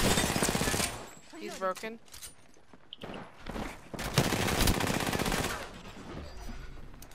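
Video game gunfire, with bursts of automatic shots and single cracks separated by quieter gaps, alongside footsteps and game sounds, while a voice speaks briefly.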